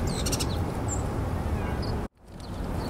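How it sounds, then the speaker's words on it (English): Birds in a snowy Central Park, New York, give brief high chirps and calls over a steady wash of outdoor noise. A short dropout breaks the sound near the end. "I'm standing up here and look at all these birds."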